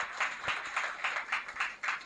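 A church congregation at a silver jubilee celebration claps in a light, uneven patter, with several sharp hand claps rising and fading over a couple of seconds.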